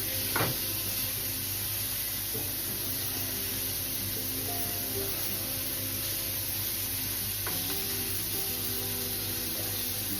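Sausage meat fries in a pan with a steady, moderate sizzle and hiss, plus a couple of faint clinks as it is stirred and broken down.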